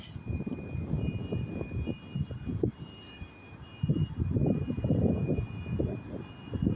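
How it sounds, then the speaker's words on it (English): An HST InterCity 125 train arriving at Stirling station, its diesel engine rumble rising and falling close by with a steady high whine above, growing louder toward the end. "Here comes the HST."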